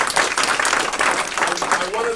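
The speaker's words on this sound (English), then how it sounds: "So let's give them an applause." Audience applause at the United Way of Santa Barbara County Mega Tax Day 2014 event, a steady wash of clapping lasting a couple of seconds with a faint voice murmuring underneath.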